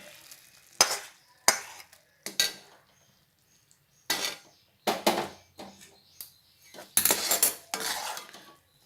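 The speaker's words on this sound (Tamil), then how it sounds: "சேர்த்துட்டு நல்லா கிளறிக்கணும்." Tirunelveli samba wheat halwa with caramelized sugar is stirred in a pan, producing loud bursts of scraping and clattering from the utensil, separated by short near-silent pauses.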